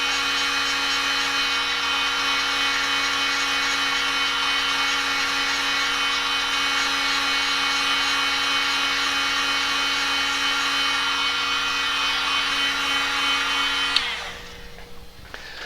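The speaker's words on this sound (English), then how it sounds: "So I'm going to use a hot air gun just to help dry these colours off." A hot air gun blows to dry paint colours on a figure, a steady loud whooshing roar with a constant whine, running unbroken and close before cutting off abruptly near the end.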